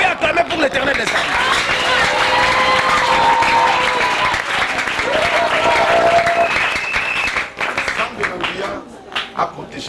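A church congregation at a worship service applauds and cheers loudly and steadily for about eight seconds, with sung and shouted voices mixed into the clapping before it breaks up and fades near the end.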